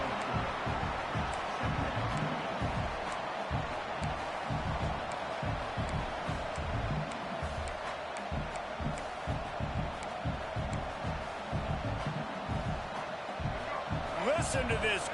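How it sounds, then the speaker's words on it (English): A stadium crowd roars in a PS5 American football video game, a dense, steady wall of cheering and noise that carries on throughout under a commentator's voice. "Listen to this crowd just shaking the girders of this place"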